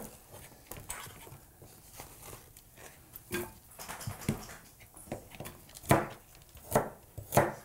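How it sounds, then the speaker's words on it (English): Vegetables are chopped into even pieces for roasting, a knife striking a cutting board in sharp, irregular chops, some louder than others, with no voices. "When I roast vegetables, I like to cut everything up in about the same size pieces."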